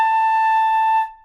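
A single sustained flute tone sounds clean and steady for about a second, then stops abruptly. The note is close and clear against silence.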